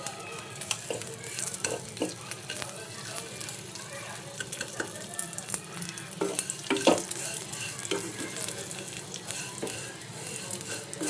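Vermicelli fries in ghee while being stirred, giving a steady close sizzle with frequent scraping and rustling strokes through the strands, continuous and fairly loud.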